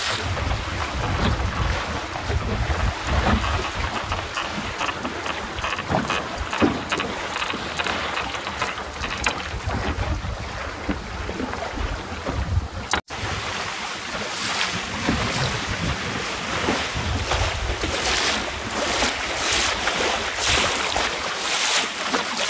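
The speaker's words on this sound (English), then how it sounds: "we're just gonna go for a bit of a sail first" A sailing dinghy moves under sail in a steady wind, with continuous loud wind buffeting the microphone and water rushing along the hull, briefly interrupted by a knock partway through.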